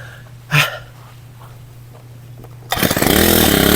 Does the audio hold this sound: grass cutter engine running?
yes